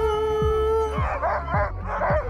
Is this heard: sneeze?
no